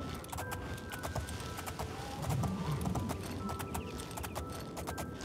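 Horse hooves galloping in the video game Oblivion: a rapid, steady series of sharp clip-clop strikes at moderate volume over a low rumbling game background.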